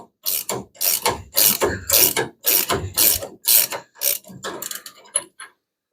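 A ratchet drives greased 9/16 bolts into the front suspension of a 1975 Plymouth Duster, giving loud, rapid bursts of clicking in steady repeated strokes that slow toward the end, with no talk.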